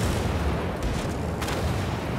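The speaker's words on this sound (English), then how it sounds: "I'm going to toss my grenades" Grenade explosions in a video game, a dense roaring blast that fills the whole short stretch with loud, continuous rumbling noise.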